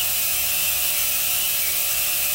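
A ratchet works on bolts of an old 1940s Lawson two-horsepower stationary engine, giving a steady, close, rapid clicking that stays at an even, loud level throughout.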